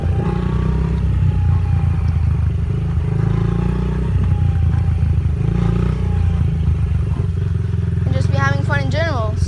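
Dirt bike riding in second gear, its engine droning loud and steady up close with rough clatter, while a person talks over it throughout.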